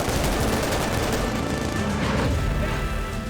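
Staged gunfire on a large action film set, heard as dense, loud, continuous bursts of shots and crackling blasts that fill the whole clip without pause.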